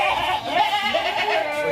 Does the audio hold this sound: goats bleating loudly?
yes